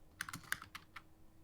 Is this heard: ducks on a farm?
no